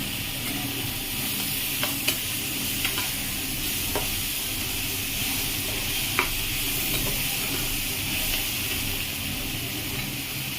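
Ginger paste and turmeric fry in a pan for a Bengali pumpkin-greens chachari, making a steady, close hiss of sizzling with a few sharp clicks of a stirring utensil and no voices.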